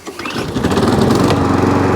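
A Viking (Stihl) lawn mower engine, just repaired for a drive fault, catches on a pull-cord start and rises into a loud, steady, close-up running drone.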